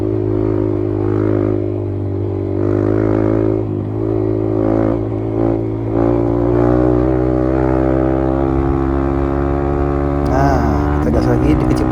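Trail motorcycle running hard at high speed on a rough Aceh trail, a loud sustained engine roar with rising harmonics as the throttle opens, plus wind buffeting, all close.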